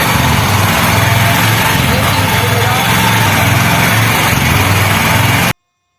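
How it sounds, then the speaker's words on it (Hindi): A Honda Shine 125 BS6 motorcycle engine runs steadily after starting, a close, continuous buzzing idle with no talk, cutting off abruptly near the end. "फिटिंग करके फिर बाइक को स्टार्ट करता हूँ"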